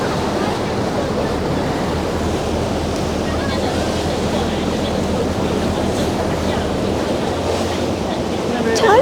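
Rough, churning sea water roars continuously at the Naruto whirlpools in Tokushima, heard from a boat, with wind buffeting the microphone and a faint voice near the end.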